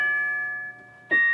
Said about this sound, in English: Now I'm gonna go to track number 5, which is the bell.